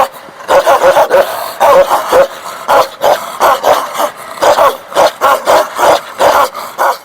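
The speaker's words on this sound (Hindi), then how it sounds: "ओह, ये हिमालयन शेफर्ड के हैं कुत्ते, इनसे बचना आसान नहीं है, डर बहुत लगता है।" A pack of Himalayan shepherd dogs in a Himalayan valley bark loudly and rapidly outdoors, a close, continuous volley of overlapping deep barks with a few yips.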